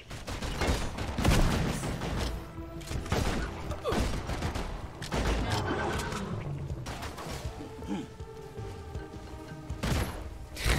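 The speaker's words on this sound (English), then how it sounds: "I really like the sound of this assault rifle though" Assault rifle fire in a shooting video game: repeated loud, sharp bursts of shots cut through dense, rumbling combat noise, with a player talking over the action.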